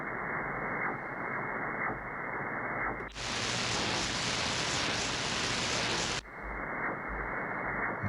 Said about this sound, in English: this is Kodar. It's a type of radar to check the ocean waves and currents